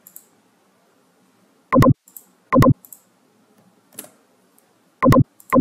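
Sharp, close clicks sound while a laptop joins a D-Link DIR 825 wireless network, arriving in a few isolated pairs and single taps against near silence.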